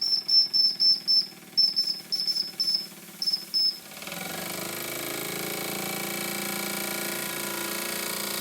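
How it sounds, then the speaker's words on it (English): A model steam engine's whistle gives a series of short, sharp toots in quick bursts, then gives way to a steady hiss and mechanical hum. "The whistle works too, which was a surprise."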